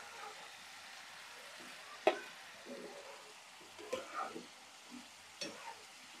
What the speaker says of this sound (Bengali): সব রকম মশলা দিয়ে কষিয়ে এই যে দিয়ে দিচ্ছি এখন ডিম আর মসুরের ডাল ভাজা